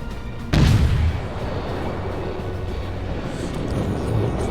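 A warship's gun firing in a naval combat video game, one heavy booming shot with a deep rumbling tail, then a low continuous engine and sea drone.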